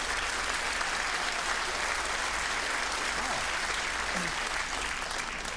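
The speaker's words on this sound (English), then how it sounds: "A round of applause for a Fritzl joke" Audience applause at a Jimmy Carr stand-up comedy show after a joke. Steady, sustained clapping from a full crowd, moderately quiet and even throughout, with no clear talk over it.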